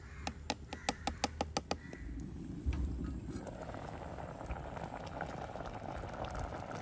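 A pot of wild mango curry bubbles on the stove in a village-style kitchen, a soft steady boiling hiss and burble, preceded by a quick series of light taps.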